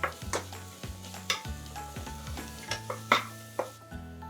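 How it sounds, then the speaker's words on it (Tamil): Onion with ginger garlic paste sautéing in a pot for North Indian rice khichadi, a spoon stirring in repeated scraping strokes about twice a second over a low sizzle, close and moderately loud, with no talking. "இது நல்லா வதங்கட்டும்."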